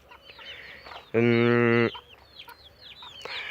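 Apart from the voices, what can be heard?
chicks and pearl grey hen clucking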